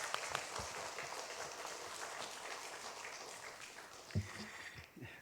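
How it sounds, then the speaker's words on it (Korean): A church audience at a special evening revival service gives applause to welcome a visiting pastor, a faint, diffuse wash of clapping from a distance, with a few louder knocks near the end. "우리 이 시간에 큰 박수로 모시겠습니다"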